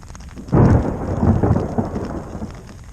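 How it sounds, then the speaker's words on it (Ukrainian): A loud rumble of thunder bursts in and rolls on over steady heavy rain beating on a tent in the Romanian steppe, the storm close and filling the whole scene. "Не починаю хитати намет, злива посилюється"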